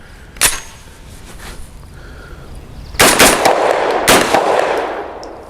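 Several sharp pistol shots from an Extar EP9 firing Turkish 124 grain nickel plated steel case ammunition with brass full metal jacket bullets, a single crack early on, then a louder pair of close reports with echoing tails, outdoors.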